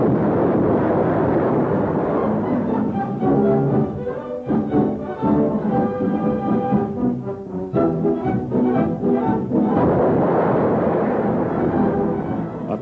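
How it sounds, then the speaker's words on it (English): Soviet warships' depth bombs exploding in the Baltic during 1941, heavy rumbling booms with rolling low roar, loud and sustained, and a dramatic orchestral score playing over them. "Soviet ships fire depth bombs and find the mark."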